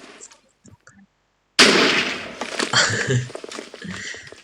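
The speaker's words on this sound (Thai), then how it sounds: "ตอนแรกก็จะระเบิดใหญ่นะ ต่อมาก็จะเล็กลงเรื่อยๆ" TNT explosions in a modded Minecraft game: a sudden loud blast followed by a dense crackling barrage of smaller pops and bursts that keep going, with a few faint sounds before it.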